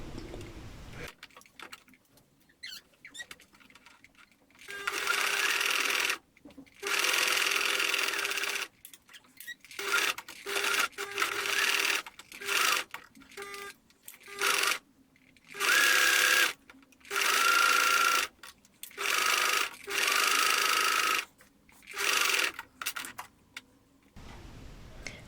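Sewing machine stitching a fleece sock, running in steady whirring bursts of a second or two separated by short pauses, close and clear with nothing else heard.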